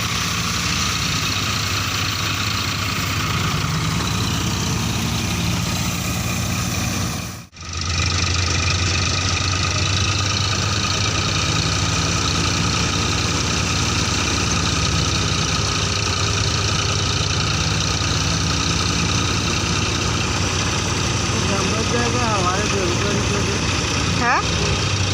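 A tractor engine idles steadily and close by, a continuous low chugging rumble that briefly cuts out near the start and then resumes unbroken.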